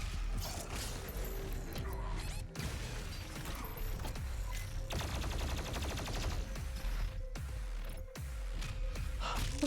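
Dense bursts of gunfire fill a boss fight in the video game Doom Eternal, with rapid repeated shots against a constant loud roar of combat and mechanical clatter throughout.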